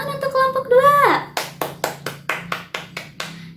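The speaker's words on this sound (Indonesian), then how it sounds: "Tepuk tangan untuk kelompok 2" In a classroom, a short spoken phrase gives way to a group of pupils clapping in unison, about nine sharp, evenly spaced claps in a steady rhythm.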